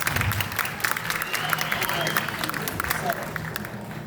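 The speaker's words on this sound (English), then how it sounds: "Big round of applause." Audience applause fills a theater during a live horror movie spook show, steady clapping mixed with crowd murmur and some talk throughout.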